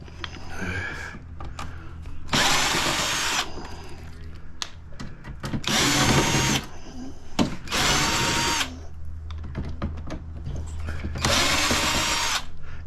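A power drill backs screws out of an H-Calory diesel heater in four loud whirring bursts, each a second or so long, separated by quieter handling clicks and rattles of the metal casing.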